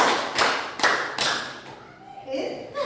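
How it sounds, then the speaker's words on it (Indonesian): Rhythmic group hand clapping in a classroom, children clapping in counted sets: several sharp broadband claps land in a steady pattern, fairly close, followed by a brief voice near the end. "Tepuk 1, tepuk 2, tepuk 3, tepuk 4."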